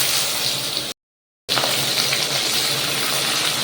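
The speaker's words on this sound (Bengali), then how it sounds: "চলো এবার বেরেস্তাগুলো একটু একটু করে ভেজে তুলে নিই।" Sliced onions for biryani beresta sizzle and crackle loudly and close in hot oil over a high flame. The noise is dense and steady, with a short silent gap partway through. No one speaks.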